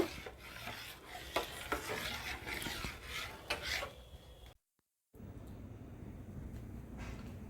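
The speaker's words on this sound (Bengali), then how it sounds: "এবার আমি এটা অনবরত নাড়ব যতক্ষণ না ঘন হয়ে আসছে" Egg and milk pudding mixture stirred steadily in a pan, a spoon scraping and rasping against the bottom in close, continuous strokes, with a short pause before the scraping resumes more softly.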